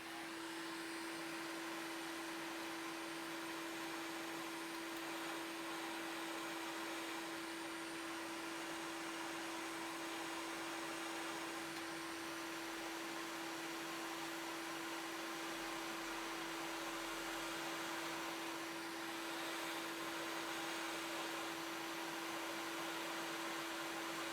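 Hot air rework tool blowing on a chip on an Xbox circuit board, a continuous even airflow hiss with a steady fan whine throughout, nearby and unbroken, no voices.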